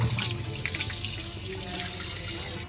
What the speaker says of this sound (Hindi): जाली लगने के बाद छण के पानी आएगा फिर इसमें। अब देखिए इसका पानी इस तरह से अब ये झाग वाला बन के आने लगा।